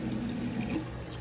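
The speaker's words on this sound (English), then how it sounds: "Turn on a little water here." Water running from a bathroom sink tap, a steady close splashing stream that holds even for about a second before easing slightly, with no voices.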